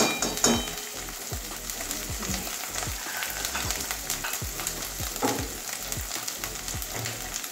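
Ginger garlic paste fries in a pan with a steady crackling sizzle, punctuated by repeated scraping strokes of a spatula stirring it, close and moderately quiet with no voices.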